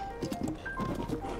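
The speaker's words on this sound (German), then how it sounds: "Mein Goldpferd, du musst draußen warten." Horse in the video game Zelda Tears of the Kingdom, a brief burst of clip-clop hoof steps with a short whinny-like snort, close and moderately loud.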